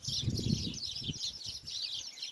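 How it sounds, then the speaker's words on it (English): Hundreds of sparrows in a tree chirp and twitter together in a steady, busy chorus, with low rustling and handling noise underneath. "there's hundreds of them, sparrows in the tree"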